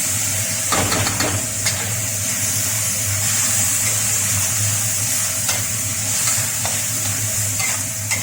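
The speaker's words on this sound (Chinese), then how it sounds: "大蒜跟辣椒，还有那个青葱的部分，先放下去爆香。" Garlic, chili and green onion sizzle and fry in a wok, a loud, steady hiss running throughout with occasional scrapes and clicks of stirring, and no talking.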